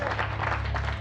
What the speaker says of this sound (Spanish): Un aplauso para Pablo también, ¿no?